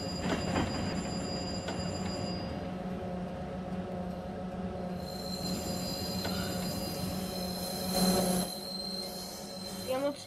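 A train runs in the Roblox video game, a steady rumbling roll with rail squeal and a brief whistle-like tone, loud and continuous throughout with no talk over it.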